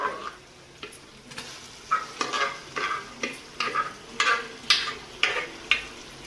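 Pav bhaji vegetables (boiled vegetables added to cooked onion and tomato) being stirred and fried in a pan, with a steady rhythm of about a dozen scraping spatula strokes over a low sizzle, close and clear, no talk.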